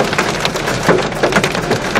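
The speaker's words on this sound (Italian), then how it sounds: "la pioggia è troppo forte e non si può viaggiare" Violent downpour on the Statale 100 road near Bari, a dense, loud, steady hiss of heavy rain pounding surfaces with scattered sharper drop hits and no speech.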